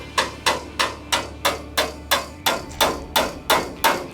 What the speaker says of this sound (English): So just lightly tap with a hammer